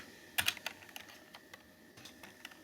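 HTML being typed on a computer keyboard, with a quick burst of close key clicks followed by sparser, irregular keystrokes over a faint, quiet room background with no talking.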